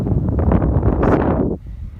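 Cold wind gusting across a steaming geothermal area in Iceland in March, a steady broadband roar buffeting close to the microphone, then dropping off sharply near the end.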